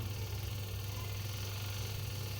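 Motor of the spin dryer in a Panasonic NA-W76BBZ2 twin-tub washing machine spinning after its replacement: a steady low hum with continuous mechanical vibration, close, fairly quiet, with no talking.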